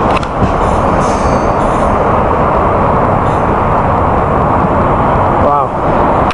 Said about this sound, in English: that was the best train of the day ever